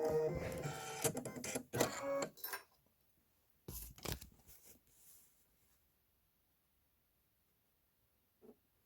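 An embroidery machine stitches white thread onto vinyl windows in short, busy mechanical bursts, then falls mostly quiet with a couple of faint later clicks.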